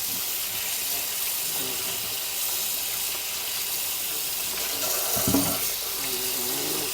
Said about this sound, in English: Just give them a nice rinse.